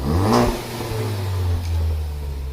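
A Ford Focus ST fitted with a catless downpipe exhaust revs up sharply, then settles into a deep, gurgling engine note close by, with no talking.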